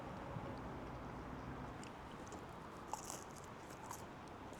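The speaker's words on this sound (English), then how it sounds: "I don't feel like a lot of you want to keep hearing me chew the whole time" A person chews food close by in a quiet indoor setting, with soft, irregular wet crunching and biting sounds running steadily throughout at low volume, without any talking.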